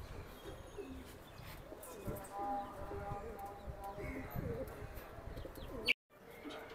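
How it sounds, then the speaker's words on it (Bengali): A male pigeon, black-barred wings, paired with a hen about to lay, gives soft, repeated throaty coos near the listener, steady beneath intermittent conversation and faint background noise. "এটা নর কবুতর।"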